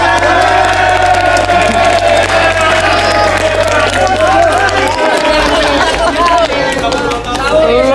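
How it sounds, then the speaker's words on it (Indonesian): Studio audience clapping on an Indonesian TV show, loud and continuous with crowd noise and cheering mixed in, while a voice carries on over a steady music bed throughout. "Tepuk tangan semua, tepuk tangan."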